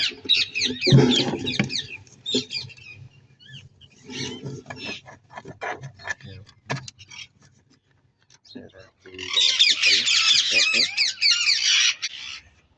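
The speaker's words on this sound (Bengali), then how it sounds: "দেখেন আমার টিয়া পাখি এখানে তিনটা আছে।" Bursts of shrill, rapid chirping from several parakeets and parakeet chicks, loudest at the start and end, with a person talking in between.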